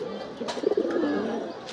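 Pigeons at a sky pigeon loft give soft, low coos, close by and moderately loud, with a brief rustle mixed in. No one speaks.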